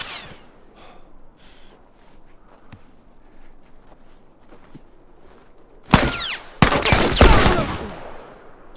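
Gunfire erupts in The Last of Us: after quiet footsteps and faint scuffs, a loud close burst of several rapid shots rings out near the end.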